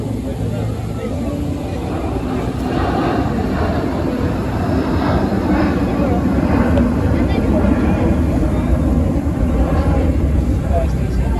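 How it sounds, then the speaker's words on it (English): A business jet performs a flying demonstration at the Paris Air Show, its engines giving a loud, steady roar that swells slightly and holds throughout, with no speech over it. "Business jet through graceful demonstration patterns, showing off their sleek design and impressive raw speed handling."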